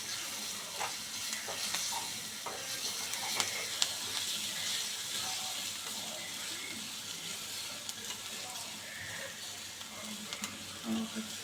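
Cumin, garlic paste and green chili paste temper in hot ghee for a homemade kadhi, giving a steady close sizzle and frying hiss with scattered stirring scrapes and small clicks throughout, no talking.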